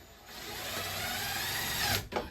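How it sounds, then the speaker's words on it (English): A steady high-pitched power drill whine runs for about two seconds, close by, pre-drilling screw holes for van cabinets, then cuts off with a brief final burst. "I'm gonna pre-drill some of these screws."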